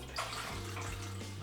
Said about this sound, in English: So now we're just going to fill it with water and